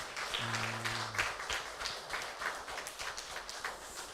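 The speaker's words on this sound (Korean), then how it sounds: "박수하겠습니다." Chapel audience at a university service applauding, a steady patter of many hands clapping at moderate distance, with a brief low tonal hum near the start.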